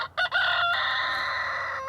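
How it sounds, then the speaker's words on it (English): A rooster crows once nearby, a loud drawn-out call with a raspy, sustained tone after a brief start. "This rooster behind me is about to attack me."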